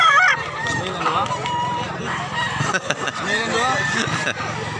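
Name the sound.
roosters at a chicken market in Mantalungon, Barili, Cebu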